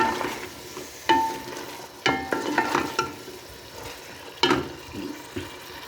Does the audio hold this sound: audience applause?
no